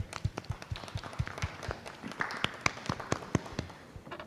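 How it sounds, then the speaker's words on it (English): Scattered hand claps from a small audience at a school board meeting, sparse and fairly quiet, with individual claps standing out at an uneven rhythm for a few seconds. "Also worthy of an applause for Walmart."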